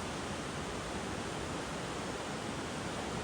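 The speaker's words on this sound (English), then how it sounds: "Fall Creek 3 is the last major rapid on this run, and it's a big one" Roaring whitewater of Fall Creek 3, a big rapid on Idaho's South Fork Salmon River where a long straight drop slams water against a cliff, rushing loud, dense and unbroken throughout.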